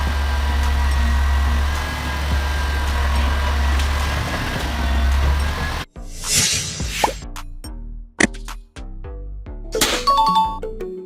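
A grapple garbage truck's engine idles with a steady low rumble for several seconds, then cuts to the hydraulic claw at work, with clanks, thumps and metallic knocks from bulky waste being handled.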